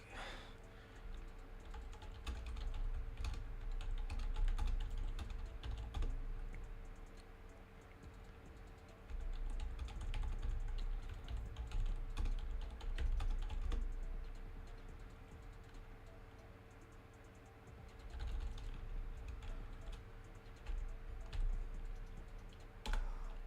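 Steady typing on a computer keyboard, rapid keystrokes clicking in uneven bursts with short pauses, fairly quiet over a low background hum, with no one talking.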